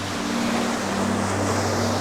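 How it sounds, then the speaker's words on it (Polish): Baltic Sea waves splash and wash steadily against the shore in a continuous surf hiss, with a low engine hum from boats running underneath the whole time. "Fale bardzo fajnie chlupią."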